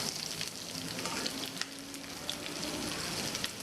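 Onion frying in a pan for Thai red curry, a close, even sizzle with a soft crackle that holds steady throughout and has no speech over it.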